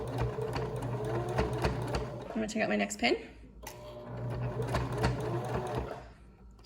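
A sewing machine stitches steadily through thick fabric at a face mask pleat with a rapid mechanical chatter. It strains a little and pauses briefly midway while a person speaks over it.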